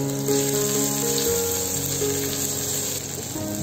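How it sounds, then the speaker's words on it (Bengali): Chopped onion, ginger and garlic with cumin seeds fry in a pan, a steady close sizzle with a constant watery hiss throughout. "তো আমি এই পেঁয়াজ রসুন আদা এটা আমি খুব বেশি ভাজবো না"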